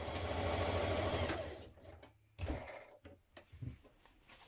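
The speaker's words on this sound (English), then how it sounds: "we're now going to stitch these in place" A sewing machine stitches the shoulder and side seams of a coat lining, running briskly for over a second before slowing to a stop, followed by scattered clicks and fabric handling nearby.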